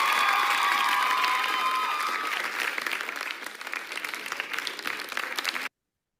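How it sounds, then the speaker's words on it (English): An audience at a Toastmasters Speechcraft session gives a round of applause. Dense clapping mixed with a few cheers starts loud, then thins and softens until it cuts off. "give them a huge round of applause"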